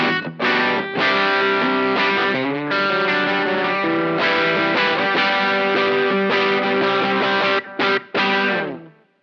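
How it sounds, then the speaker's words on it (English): Electric guitar through an OCD overdrive pedal plays a crunchy rhythm part with chugging chords and short stops, loud and close, ending on abrupt choked hits. "And then here's the OCD."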